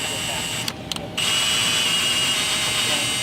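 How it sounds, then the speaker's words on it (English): Metal wagon frame being tapped for screw holes, a steady high-pitched power-tool whine that briefly stops and then resumes and holds, close and loud. "We can also tap some holes for screws"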